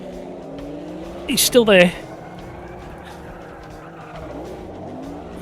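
Race car engines in the racing game AMS2 drone steadily beside each other, with a sharp tire squeal and skid bursting out briefly midway, while someone speaks over the engine noise.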